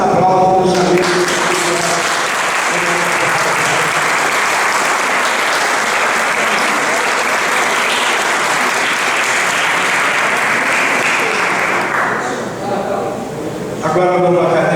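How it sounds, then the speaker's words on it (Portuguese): Sustained, loud applause from an audience filling a hall during an induction ceremony at the Academia Fluminense de Letras, a steady dense clapping that runs for around twelve seconds before fading out, with brief talk at the start and end. "E recebe os aplausos dos amigos."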